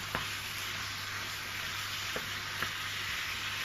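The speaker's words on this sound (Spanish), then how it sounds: "Cuando empieza a coger colorcito la cebolla y el ajo, ponemos la carne picada de cordero." Ground lamb hits a pan of browning onion and garlic and fries with a steady, close, broadband sizzle, with a few light utensil clicks now and then.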